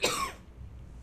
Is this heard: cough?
yes